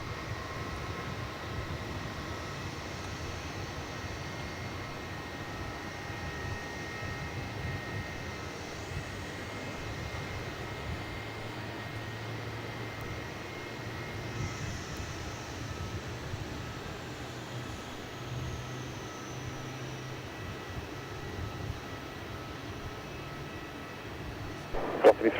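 A Velocity Airlines jet inbound from Brisbane on short final for runway 16 at Melbourne Airport, its engines a steady, distant roar that holds through the stretch and swells slightly toward the end.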